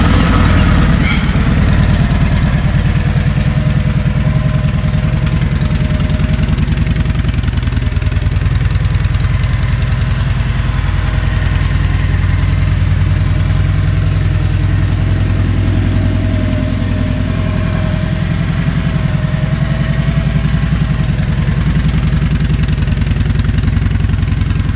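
A 2010 Kawasaki Vulcan Classic 1700 motorcycle engine idles steadily and loudly nearby, a constant low rumble throughout with no voices.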